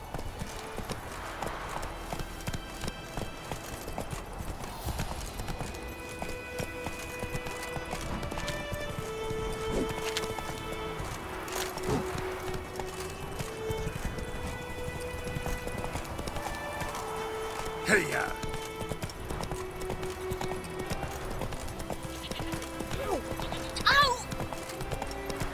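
Roach, a horse in The Witcher 3, gallops with steady clip-clopping hooves beneath a dense music score, with a brief whinny and talk mixed in.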